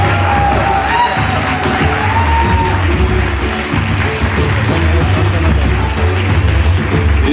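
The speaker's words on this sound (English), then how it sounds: "Come on, let's keep the applause going." Large audience at a historic afternoon event on stage in Pune applauds steadily, a dense continuous wash of clapping with some cheering, loud and sustained throughout with faint voices mixed in.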